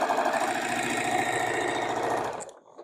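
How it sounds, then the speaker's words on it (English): A sewing machine stitches quilt block pieces for a pieced stove block, running in a steady, rapid mechanical patter close by, then stopping abruptly near the end with quiet after. "So I'm going to put those over to the side and start sewing."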